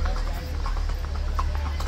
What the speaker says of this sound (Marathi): इथं बरेच घोडे आहेत